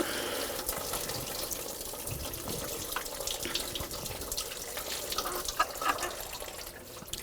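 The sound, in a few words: BMW X5 engine coolant draining into drain bucket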